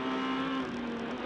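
A Renault Clio S1600 rally car accelerates hard, its engine holding a strained, high steady whine for a brief burst heard close up.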